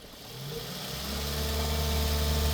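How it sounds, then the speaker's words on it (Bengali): A Toyota Harrier engine runs close by, a low, steady rumble that swells and grows louder as it revs, with no talking over it. "বর্তমান ইঞ্জিন সাউন্ড"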